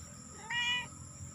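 A single short meow from a cat on a farm, clear and close, heard alone over a faint background hum.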